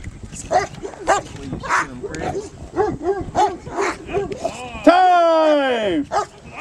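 A dog yips and whines excitedly in short bursts, ending in a long rising-falling whimper, with a person talking nearby.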